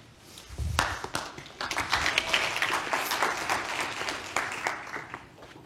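A polite smattering of applause from a panel audience after the moderator's introduction: a dense, fairly even patter of hand claps from a moderate crowd, sustained for several seconds before tapering slightly.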